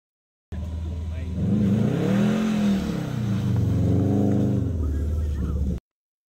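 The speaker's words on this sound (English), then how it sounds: "the tires start to slip and the traction control kicks in to help move the Subaru forward" A Subaru driving through snow, its engine note rising and falling as the tires slip and traction control intervenes; steady, close, continuous drone with swelling harmonic sweeps.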